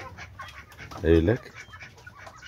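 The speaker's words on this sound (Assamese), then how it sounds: "মুৰ্গী আছে" A chicken gives a short burst of clucking close by in a rural farmyard setting, heard briefly amid quiet background noise and a person talking.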